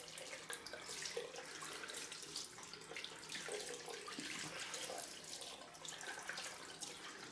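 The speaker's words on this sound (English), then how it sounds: "Get this cold water running." Cold water runs steadily from a tap during a post-shave rinse, a soft continuous hiss and splash that stays even and fairly quiet for several seconds with no talk.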